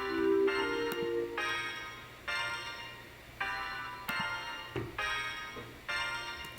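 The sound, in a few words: synth sample of hammer bouncing on piano string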